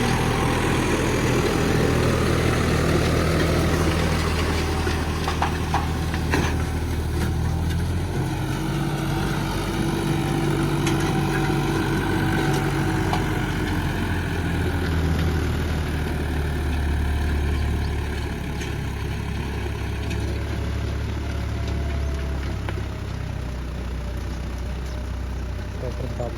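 Unmodified tractor engine idling after getting stuck in sand, a steady low diesel drone with faint higher hum, heard under people talking nearby.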